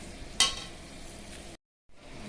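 Potatoes and eggplant with salt and turmeric fry in spices, a soft steady sizzle with a sharp scrape of stirring near the start and a brief silent gap near the end.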